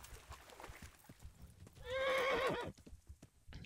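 A horse in the video game Kingdom Come: Deliverance lets out a loud, quavering whinny lasting under a second, set among clip-clop hoof sounds and faint background noise.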